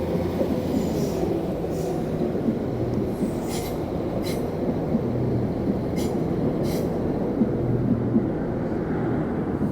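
A train rumbles steadily close by as it arrives at Enfield Station, Ireland, its wheels clattering and occasionally squealing on the rails as it rolls in, with no talking.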